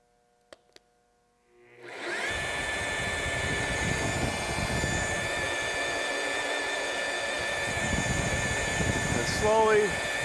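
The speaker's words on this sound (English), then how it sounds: "And now we can turn the machine on." A Bore Repair Systems BRS6 heavy-duty boring bar machine starts up after a couple of faint clicks, settling into a steady, loud motor whine and hum that runs continuously, with a brief rising squeal near the end.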